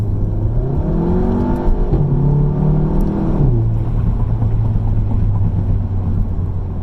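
A car on Firestone Indy 500 tires accelerates hard on a cold day, its engine revving and rising in pitch through gear changes, loud and close, then settling into a steady drone.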